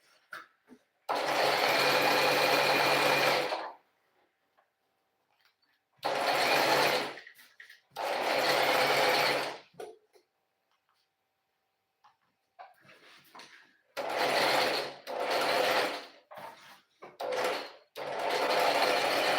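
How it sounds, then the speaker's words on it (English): A sewing machine back-stitching the crotch pleats of a pair of pants, running close and loud in several separate bursts of rapid stitching with quiet pauses between them. "I'm going to be stitching up the crotch of pleats of the pants, like I said, about 3/4 inch. Let's start the back stitch."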